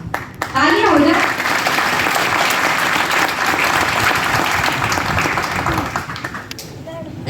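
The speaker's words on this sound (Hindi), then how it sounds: "तालियां हो जाए।" A conference audience at a growth summit in Indore bursts into loud, sustained applause that fills the room for several seconds, with a voice briefly heard at the start and end.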